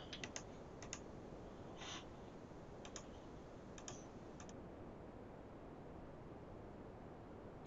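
Soft keystrokes on a computer keyboard, a few sparse clicks in short clusters, faint and close, over a steady background hiss with no talking.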